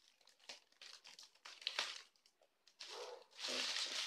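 Crinkling and crumpling of a foil wrapper being pulled off a chocolate Easter egg, in several close bursts that grow louder and denser toward the end, with no talk over it.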